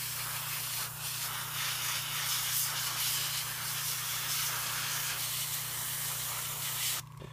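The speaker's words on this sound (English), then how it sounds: "We're just spraying it down with a wash, getting a pretty decent coat on." An airbrush sprays a paint wash onto a painted Blood Angels Assault Marine miniature, a steady close hiss lasting several seconds alone, cutting off near the end.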